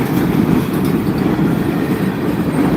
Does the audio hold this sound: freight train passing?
yes